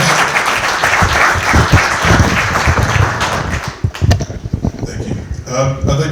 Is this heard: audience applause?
yes